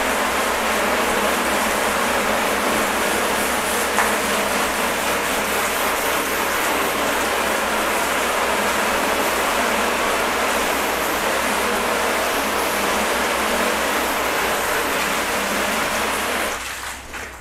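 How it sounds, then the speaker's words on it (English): A hose sprays a continuous, loud, even rush of water while rinsing down a car after soaping it during a ceramic detailer test, close by and steady until it cuts off at the very end. "So go ahead and rinse this down."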